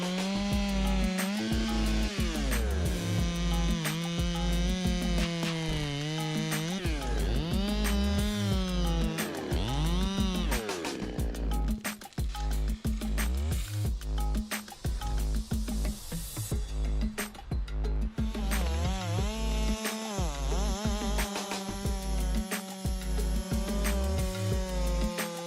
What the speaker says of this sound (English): In the US, they even have chainsaw cutting competitions like this.